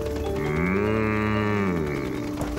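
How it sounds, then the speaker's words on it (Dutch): A cow lows in one long, loud, sustained moo that rises and then tails off, heard close up against a steady background. "Je bent een brave koe, Daisy."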